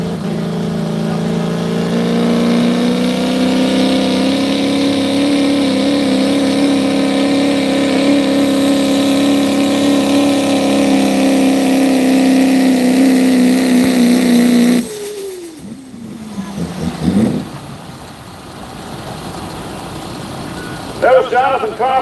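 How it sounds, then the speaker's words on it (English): Jonathan Kaufman's pulling truck, called America, roars at a truck pull in Ridgeland, its engine holding a loud, steady high-revving drone for about fifteen seconds before cutting sharply, sputtering down, then briefly revving again. "Here comes Jonathan Kaufman and the truck he calls America."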